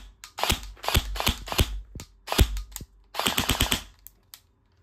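An airsoft gun firing through a chronograph, heard as several close bursts of sharp rapid shots in irregular groups, loud and crisp against a quiet background.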